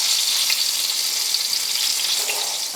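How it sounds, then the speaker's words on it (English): Coconut-crusted red snapper fillet sizzles steadily in a hot pan, a dense, continuous close-up frying hiss with small crackles and no voices. "the fish has been cooking for probably about a minute so far on this side"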